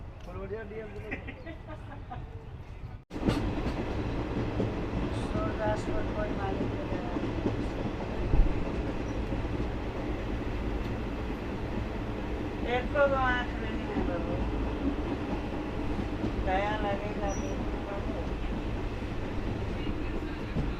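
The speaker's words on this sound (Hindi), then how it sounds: "सो दोस्तों हमारी ट्रेन निकल चुकी है छपरा से" The Ballia Sealdah Express rolls along after leaving Chhapra, India, with a steady rumble and clatter of the carriages heard from inside the train. Passengers' voices carry faintly over the running noise.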